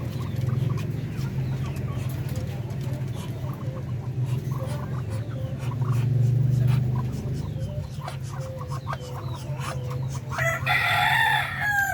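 Chickens cluck and a rooster crows repeatedly inside a large coop, a steady dense barnyard chorus of hens with a louder crow rising near the end.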